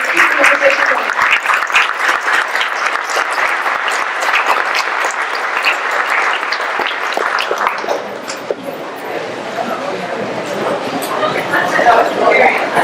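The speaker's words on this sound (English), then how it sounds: "one more big round of applause" An audience at an education panel breaks into loud sustained applause that fills the room, mixed with voices and crowd murmur, then thins toward the end as chatter continues beneath the last scattered claps.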